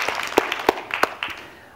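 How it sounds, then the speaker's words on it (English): Brief, scattered applause from a small audience at a talk: a few distinct claps with uneven spacing that quickly thin out and fade within under two seconds. "Yeah, you can applaud that."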